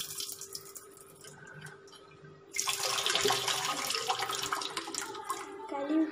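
Tap water runs into a sink, rinsing garden waste clean in a home garden; a steady, fairly loud gush starts after a quieter stretch and continues to the end, with faint talk in the quieter opening.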